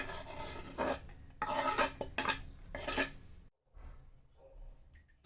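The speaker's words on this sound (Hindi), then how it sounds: "इसको कंटिन्यू चलाते हुए मेल्ट होने दें" Melting chocolate stirred continuously in a pan over a low-to-medium gas flame, with repeated scraping and rasping strokes of a utensil against the pan, close and fairly loud, then quieter after a brief pause.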